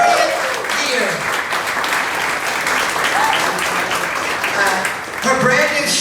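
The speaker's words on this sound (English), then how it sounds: "Let's applaud" Audience applause at a live Provincetown show, a steady wash of clapping for several seconds, with voices talking over it near the end.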